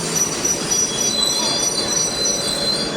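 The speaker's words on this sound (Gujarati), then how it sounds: "આ ટ્રેન ઊભી રાખી છે." An AC double-decker train stands at a station with a loud, steady mechanical drone and thin high-pitched squealing tones running through the whole stretch.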